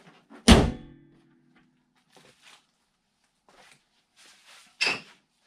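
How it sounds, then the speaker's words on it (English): A Honda CR-V hood slams shut with one loud, close thunk, followed by quiet handling noises and a second sharper knock near the end. "Kind of see how this, make sure the hood shuts right."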